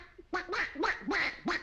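A man imitates a duck, giving five nasal quacks in quick succession, close and fairly loud.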